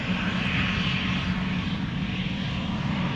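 KLM airliner on flight 1711 departing Amsterdam Schiphol for Luxembourg, a loud close-up steady engine roar with a low drone sustained evenly throughout, no voices.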